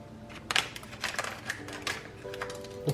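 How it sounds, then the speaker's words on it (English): Scissors snip through the end of a Reese's no-bake bars mix pouch in a kitchen: a series of close, sharp crisp cuts and crinkly plastic rustles in an uneven rhythm, fairly quiet, with no talking. "So we're going to cut the whole end off."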